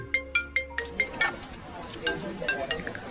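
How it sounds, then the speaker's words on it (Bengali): A phone rings with a rapid series of bright electronic chime tones, evenly spaced, then repeats after a short gap, close and clear over faint background clinking. "হঠাৎ তার ফোনটা বেজে ওঠে"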